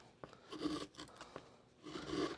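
Hand tool carving fine shavings from a guitar top brace, giving soft scraping, rasping strokes in two bursts separated by short pauses and a few sharper ticks, close and quiet.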